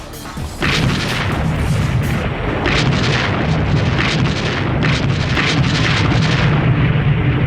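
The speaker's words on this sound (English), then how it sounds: "It always began with an extended artillery barrage." An extended World War II artillery barrage against a heavily defended hill in France, heavy guns booming and explosions thudding again and again in a loud, dense, continuous roll, with no talk over it.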